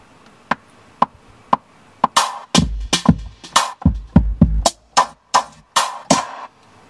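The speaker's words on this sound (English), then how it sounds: "I'll drop in the next snare." A snare drum drops into a produced beat: sparse sharp hits at first, then a dense, punchy rhythm of loud snare and percussion strikes, heard alone without talking.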